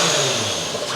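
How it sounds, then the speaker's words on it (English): A car engine fitted with a very large turbo revs hard, a loud, close, sustained roar with a whooshing top end lasting about a second. "You can actually hear isn't the turbo different?"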